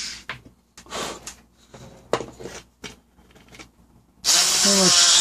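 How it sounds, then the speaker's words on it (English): A power drill bores a hole straight down through a joint in a build of an HK G3-style Tippmann A5, with short bursts of activity before a loud steady whir near the end. "So I just drilled a hole directly down through."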